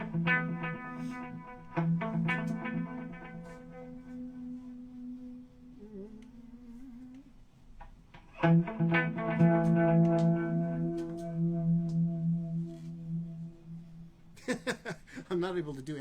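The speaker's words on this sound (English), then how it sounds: "And then let's get a tremolo and some reverb going." Electric guitar played through an RK2000 pedal with tremolo and reverb, sustained chords and notes that ring out and pulse, with sharp strums between quieter passages and a few spoken words.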